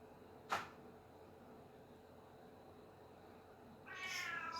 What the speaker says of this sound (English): Sorry for my cat. It's making some weird night noises.